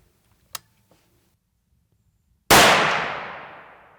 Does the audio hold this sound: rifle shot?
yes